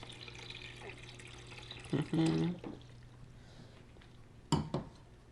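Water poured into a glass, a short liquid splash and trickle standing out against a steady background hum, followed moments later by a second brief pour.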